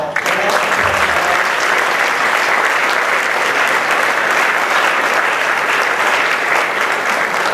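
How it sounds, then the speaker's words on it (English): Sustained, dense applause from a large audience at an awards ceremony, loud and steady throughout with no break, the many hands blending into a continuous roar. "that was just a good, well-deserved round of applause"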